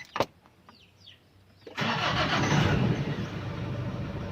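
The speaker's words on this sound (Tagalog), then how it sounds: "So kung ipalo natin sa 1000 RPM niya, o yan oh, malakas yung vibrate niya oh." A Nissan Navara D40 pickup engine cranks and catches, then settles into a steady, loud idle with a rough vibrating rumble, after a few faint clicks and knocks.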